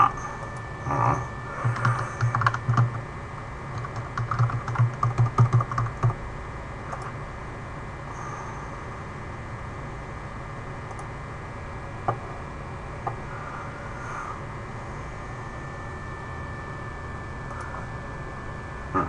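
Password keys tapped out on a computer keyboard in a short burst of quick, close clicks during the first six seconds, followed by a few isolated key presses over a quiet room hum.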